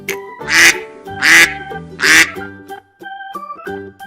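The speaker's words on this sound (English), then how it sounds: "duck" A duck quacks three times in a loud, evenly spaced series over a bed of gentle background music.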